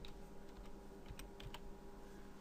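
Soft clicking of a computer keyboard as someone types a short word, a brief scattered run of keystrokes over a steady low background hum.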